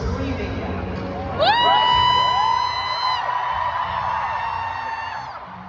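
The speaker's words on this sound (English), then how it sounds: "You seem to have memorized every single lyric because you are screaming them" A large concert crowd at an Eras Tour show in Amsterdam cheers and screams, with sustained whoops and yells swelling over a steady roar, loud and close.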